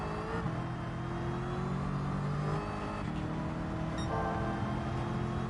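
A car in Gran Turismo 7 drives steadily with its engine revving up and down through gear changes, loud and continuous, with no speech.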